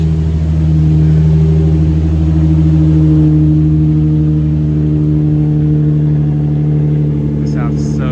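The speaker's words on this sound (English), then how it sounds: "Listen to that cold start," Infiniti G35 engine with a muffler delete idling after a cold start, a loud, steady deep rumble held throughout with no revs or pauses.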